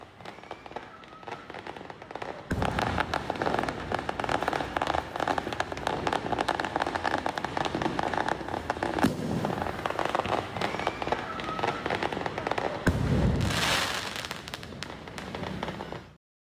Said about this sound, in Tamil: தனது இல்லத்தில் பட்டாசு வெடித்து தீபாவளி வாழ்த்து தெரிவித்துள்ளார்